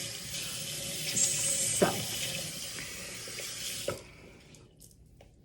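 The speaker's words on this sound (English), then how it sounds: "I'll wash my hands." Water runs steadily from a tap into a sink as hands are washed, a continuous close hiss lasting about four seconds before the flow stops, with a brief spoken word near the end.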